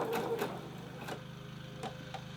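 A sewing machine stitching foldover elastic onto a knit collar runs in a steady, fast mechanical chatter close by, with a few brief clicks and louder bursts over the even drone.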